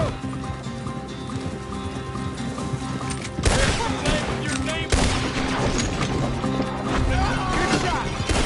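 Gunfire rattles through a western-style video game shootout in an alley, with a liquor shelf taking hits. Dense bursts and sharp cracks run throughout, louder after the midpoint, over game music and voices.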